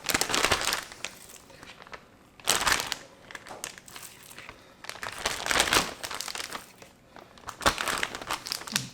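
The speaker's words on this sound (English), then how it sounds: "I'm going to go ahead and put them into this extra large Ziploc bag." Plastic crinkles and crushes as pork chops are handled with a gloved hand and pushed into an extra large Ziploc bag, a close, continuous rustling with louder crumpling bursts every few seconds.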